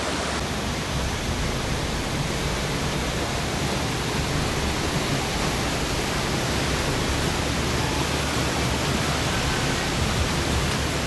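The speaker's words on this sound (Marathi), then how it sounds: "काय सुंदर वॉटरफॉल आहे" A waterfall at Khopoli roars as a steady, dense wash of falling water, loud and unbroken throughout with no voices over it.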